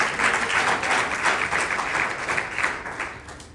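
A church congregation applauds during a Spanish-language Bible study, offering a round of clapping to the Lord: dense, steady applause that fills the room for several seconds before thinning slightly at the end.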